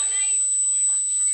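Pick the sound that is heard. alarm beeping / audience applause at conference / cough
alarm beeping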